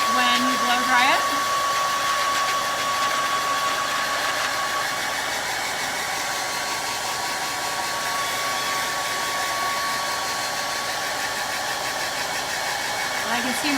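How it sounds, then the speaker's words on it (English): A handheld blow dryer roars steadily and close up without a break as it dries white paint on a wooden sign stencilled with vinyl. "I'm gonna go ahead and use the blow dryer just to speed up the drying process"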